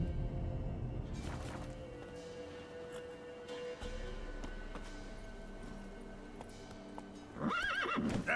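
A horse in The Witcher 3 gallops with steady clip-clop hoofbeats, and a loud whinny breaks out near the end over the game's ambient sound.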